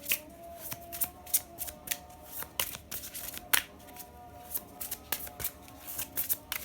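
Romance oracle cards being shuffled and drawn by hand, a quick run of crisp, fairly close riffling snaps and flicks in an irregular rhythm, with no one talking.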